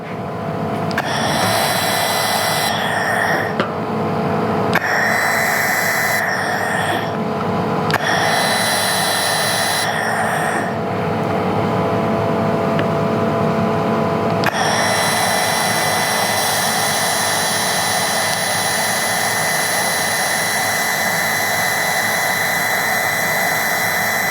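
A welding machine lays a weld on an aluminium T joint, giving a loud, steady hiss and buzz in several bursts that start and stop, then one long continuous run.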